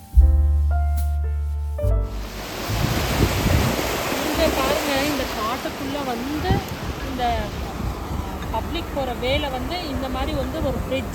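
Heavy water rushes under a small bridge in Gir forest, a steady broadband roar running the whole time beneath someone talking, with a louder burst right at the start.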